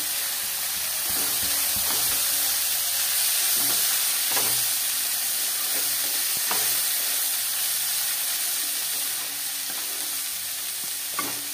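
Chopped green chillies fry in a pan with a constant, close sizzle, punctuated by recurring scraping clicks of a utensil stirring them, loud and steady throughout with no voices.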